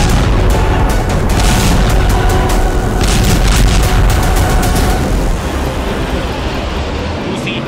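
Russian air strikes in the Ukraine war produce dense, loud rumbling blasts that blend into one continuous roar, with a voice talking over it.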